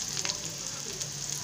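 Chopped small shallots and urad dal fry in a pan for a coconut and roasted-gram chutney, giving a quiet, steady sizzle that holds evenly throughout with no talking.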